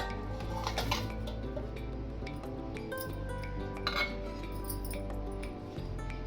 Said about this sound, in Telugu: నేను ముందుగా డ్రాగన్ ఫ్రూట్ శుభ్రంగా కడిగి ఇలా ముక్కల కింద కట్ చేసుకున్నానండి. వాటిని ఇప్పుడు మిక్సీ జార్లో వేసుకుంటున్నాను.